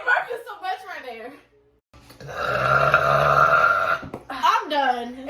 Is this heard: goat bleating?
no